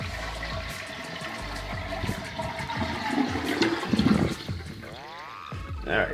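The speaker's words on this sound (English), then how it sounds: "Flush the toilet." A household toilet flushes with the water supply shut off for a flush valve replacement: a steady rushing swirl of water drains over several seconds and ends with rising gurgles as the bowl empties. No one speaks.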